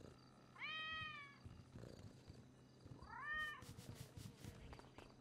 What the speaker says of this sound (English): You're probably some cat rummaging around in there.